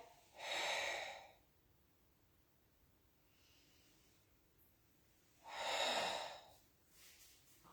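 Two long, breathy exhales during Pilates costal breathing, close and soft, separated by several seconds of near silence with a faint intake in between.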